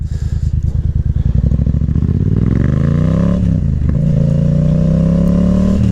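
A motorcycle revs and pulls away close by, its engine note climbing steadily through the gears under rushing wind, a ride with wheelies planned.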